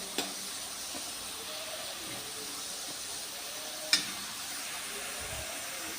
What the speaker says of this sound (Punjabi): ਪਿਆਜ਼ਾਂ ਨੂੰ ਲਗਾਤਾਰ ਚਲਾਉਂਦੇ ਰਹਾਂਗੇ ਹਲਕਾ ਲਾਈਟ ਬਣਾਉਣ ਜਾਂ ਕਲਰ ਕਰ ਲਾਂਗੇ